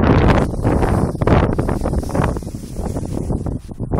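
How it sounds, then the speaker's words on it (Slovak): Gusty outdoor wind pummels the microphone with loud, rough rumbling that surges and eases over several seconds, with no talking. "ale fúka dokolo, fúka"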